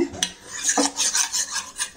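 A spoon scrapes and clinks against a metal cooking pot while a thick boiled mixture is stirred, several quick close metallic taps and scrapes in a loose rhythm, fairly loud with no talk.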